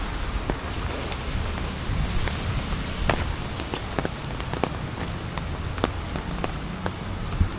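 Steady rain pours onto the Karamana Walkway in Trivandrum, a dense close hiss of falling water broken by sharp scattered drop ticks, with no voices.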